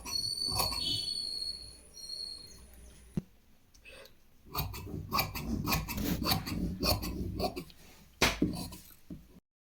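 Scissors cut through a piece of cloth for a blouse, with a run of close crisp snips and rasping fabric sounds, a brief lull in the middle, then more cutting.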